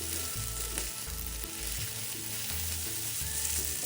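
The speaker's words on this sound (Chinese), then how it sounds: "将食材再次翻炒拌匀。" Vermicelli with egg, chicken and celery is stir-fried in a wok with a constant close sizzle, punctuated by rhythmic low thumps and scrapes as the food is tossed.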